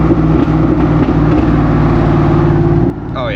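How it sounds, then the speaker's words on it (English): A Chevy Silverado with a large TSO exhaust tip decelerates, its exhaust drumming loudly and steadily with crackling decel pops, then the engine note drops near the end as a voice briefly speaks. "Oh yeah, so the pops are definitely way louder."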